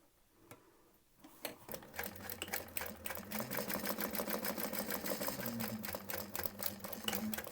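A sewing machine back stitches fabric for a small waistpack, starting after a brief quiet moment with a rapid, even mechanical clatter that runs loud and close, with short pauses in rhythm and no talking.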